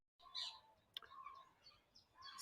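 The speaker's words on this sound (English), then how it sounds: "you can hear around me probably crows and ring-necked parakeets, certainly, and probably some other birds" Crows and ring-necked parakeets call in a wooded city nature reserve, giving a few shrill, bright squawks and chirps at moderate distance over quiet surroundings, with no talking.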